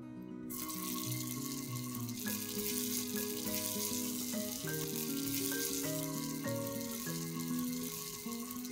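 Malai kofta fry in a hot appe pan, giving a faint, steady sizzle and hiss. Melodic background music plays over it, and the whole sound is quiet, with no talking.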